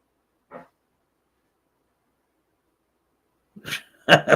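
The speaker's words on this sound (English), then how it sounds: "Weird dog." A dog gives a short soft yelp, then later two louder, rougher bursts of barking or growling close by, with quiet stretches between.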